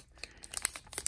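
A Japanese Pokemon TCG Forbidden Light booster pack is torn open by hand, with quick close crinkles and tearing crackles in a short burst.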